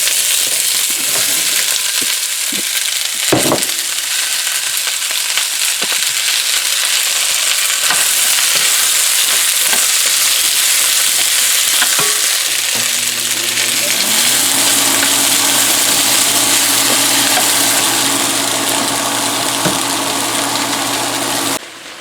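Vegetables frying in hot oil give a loud, steady sizzle and crackle that runs throughout, with a low hum rising partway through.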